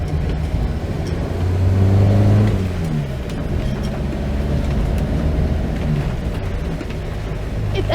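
A classic car, a Land Rover, Morris Minor or Mk1 Mini, drives along and picks up speed, its engine note rising and swelling to a loud, close rumble with road and tyre noise throughout.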